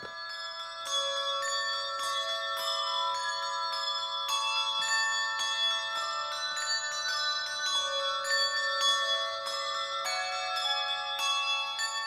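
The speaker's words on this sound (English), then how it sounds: "Quite a lot of people are interested in the sound of the handbells" Cathedral handbells over 100 years old ring in a continuous, overlapping peal, bright tones struck in steady succession with a soft, even ringing sustain.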